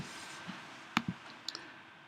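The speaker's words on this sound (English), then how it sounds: "So watch what happens when I double tap my function key." Soft, faint clicks of a key on a Mac keyboard being double tapped, two quick pairs of light taps in a quiet room with no talk.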